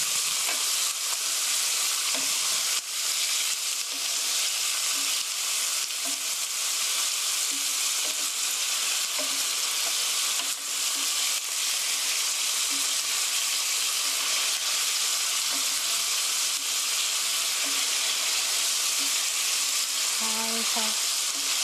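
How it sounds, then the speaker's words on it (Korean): Chicken meat sizzles steadily in a hot pan while being stir-fried, a dense continuous frying hiss with light stirring scrapes, lasting throughout without pause. "고기가 하얗게 될 때까지 살살 저어주세요."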